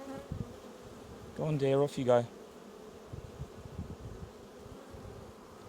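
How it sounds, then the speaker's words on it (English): Honey bees buzz steadily around an open hive, a dense low drone close by, while a person speaks softly partway through. "So the bees are all coming to the front of the colony now."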